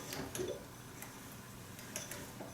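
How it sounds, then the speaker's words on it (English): A Singer 301 sewing machine turned slowly by hand, giving a run of soft, irregular mechanical clicks and ticks, fairly quiet, with no talking. "Rolling it over by hand."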